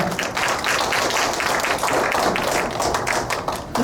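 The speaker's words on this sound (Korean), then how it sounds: "여러분 힘찬 박수로 맞이해 주시기 바랍니다" A seminar audience claps vigorously to welcome a speaker to the stage, a loud, continuous, dense wash of applause throughout.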